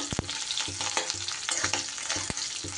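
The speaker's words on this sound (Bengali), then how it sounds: "পেঁয়াজটা দিয়ে দিলাম। পেঁয়াজটা হালকা করে ভাজা হতে হতে" Cubed onion frying lightly in a pan for potato manchurian, a steady close sizzle broken by scraping stir strokes and crackles.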